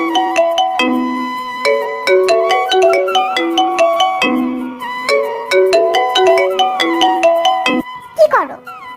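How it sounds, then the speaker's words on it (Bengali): A phone ringtone plays loud and close, a bright repeating melodic tune of several short phrases, ending with a brief rising electronic sweep. "কিছুক্ষণ পর আদিবা ফোন দিল।"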